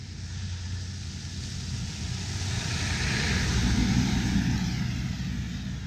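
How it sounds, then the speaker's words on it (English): A passing truck's engine builds into a loud, broad roar that swells toward the middle and stays heavy as it goes by outdoors. "Oh, comes the truck."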